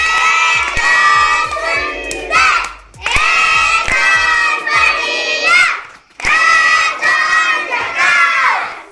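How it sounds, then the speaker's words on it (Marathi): A crowd of schoolchildren cheers loudly with shouts and claps in three long surging bursts, each swelling and then dropping briefly before the next, close and energetic. "त्यासाठी जोरदार टाळ्या झाल्या पाहिजेत"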